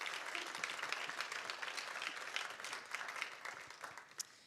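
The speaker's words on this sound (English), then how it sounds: "Would you please join me in another round of applause for our sponsors?" A breakfast forum audience gives sponsors a round of applause, an even, distant-sounding wash of many hands clapping that carries for several seconds before thinning out.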